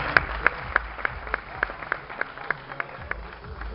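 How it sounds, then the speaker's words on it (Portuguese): Audience clapping at a Goiás bodybuilding championship awards night, with a steady run of sharp, evenly spaced claps standing out over a low murmuring crowd. "Uma salva de palmas"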